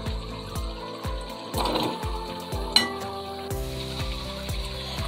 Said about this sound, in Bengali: আলুটাকে ফুল হিটে মাংসের সাথে 5 মিনিটের মতো এভাবে কষিয়ে নিব।